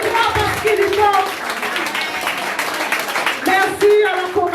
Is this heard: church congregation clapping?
yes